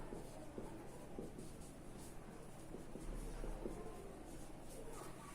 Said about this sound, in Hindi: तो यहां लिखेंगे हम